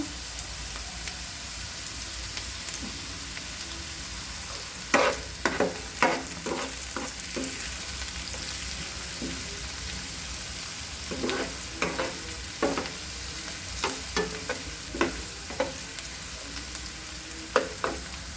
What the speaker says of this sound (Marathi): त्याला चांगलं परतून घेणार आहोत कढीपत्ता